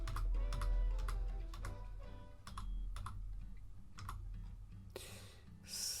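Computer keyboard keys are pressed in quick, irregular bursts while working in Blender, close and quiet, with a soft rustle near the end and no talking.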